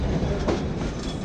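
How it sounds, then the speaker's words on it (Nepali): An Indian train rolls along the railway track at Raxaul, a close, continuous rumble of wheels and wagons that holds steady throughout. "यस्तो रहेछ हाम्रो इन्डियाको रक्सलको ट्रेन चाहिँ"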